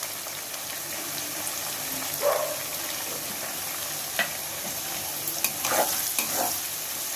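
Onion, green chillies and turmeric frying in a pan for poha, a steady sizzle with scattered spatula scrapes and stirring clinks, close and continuous with no talking.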